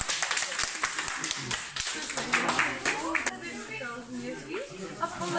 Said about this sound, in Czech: tak si zatleskejte, díky moc